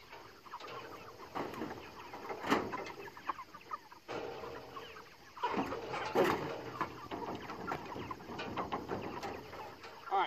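Chickens cluck steadily in Salatin-style pasture pens, a busy, overlapping flock chatter at moderate distance with occasional louder squawks and no talk over it.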